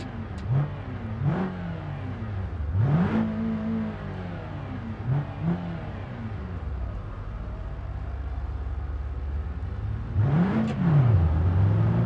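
A car in the BeamNG driving game accelerating hard, its engine revving up repeatedly in rising sweeps with gear changes, loud and close throughout.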